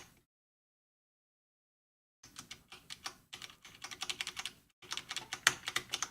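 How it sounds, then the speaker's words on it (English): Computer keyboard keys pressed in quick, irregular bursts of close clicking while switching between windows, following about two seconds of silence. "I'm doing lots of alt tabbing."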